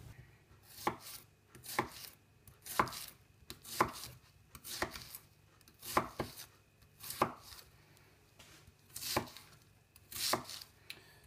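Onions being chopped on a board with an Extrema Ratio Psycho15 knife: a slow, steady run of about a dozen crisp, close knocks about a second apart, with no voices over them.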